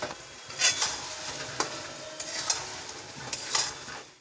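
Spice paste and fried potatoes sizzle in a pan for chicken curry while a spoon stirs and scrapes at a steady pace, close and clear, with no talking.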